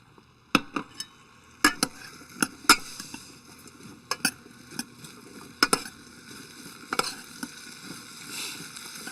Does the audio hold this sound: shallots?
yes